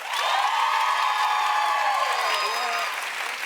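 A television dating-show studio audience claps loudly to vote, with whoops and cheering voices mixed into the steady applause that tapers slightly at the end.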